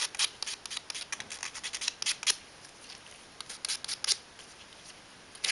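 Sandpaper rubbing tabs off a small plastic gear box piece in quick, light scratchy strokes, irregular and fairly faint, close by and without talk.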